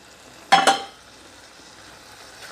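Steamed peas stirred into masala in a pan: one brief, fairly loud scrape-and-sizzle burst lasting about half a second, then only a faint hiss.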